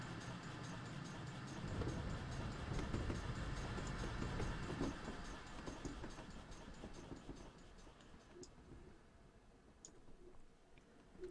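Simulated GWR 8000 train running on the West Somerset Railway in Train Simulator 2021, a steady low rumble with rhythmic clicking of wheels over rail joints that slowly fades as the train moves away.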